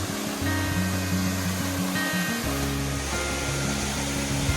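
Battle Creek Falls pours down in a steady, full-bodied roar of falling water, loud and close, with a brief dip in the rush before it swells again.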